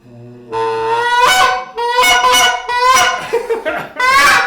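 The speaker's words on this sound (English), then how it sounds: "So this is a goose call." A goose call blown by hand gives loud, close, honking notes in several short bursts with a rising, raspy tone, sounding like a goose calling.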